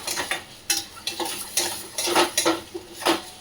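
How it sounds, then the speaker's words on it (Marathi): A spoon stirs and scrapes egg bhurji in a metal pan, with repeated clinks and scrapes in an uneven rhythm, close and clear with no talk. "आता ही चांगली परत ना ढवळून घेणार."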